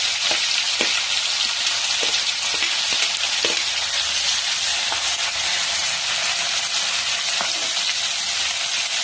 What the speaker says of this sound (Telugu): నూనె కాగిన తర్వాత తాలింపు గింజలు వేసుకోవాలి